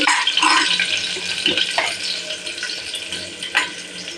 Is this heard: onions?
yes